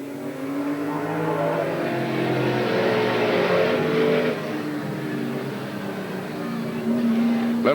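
Race cars, among them an '81 Chevrolet Camaro, roar around a short speedway track in 1987 Oregon, their engines droning and rising together in one continuous loud wash, with a brief surge near the end.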